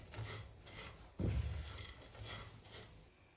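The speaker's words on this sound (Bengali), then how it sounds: "পুরো সময়টা আমি এইভাবে নাড়তে থাকবো যেন বড়িটা পুড়ে না যায়" Lentil dumplings (bori) being stirred as they fry in a pan, giving a steady scraping, rasping rub with a louder, heavier scrape partway through, close and alone.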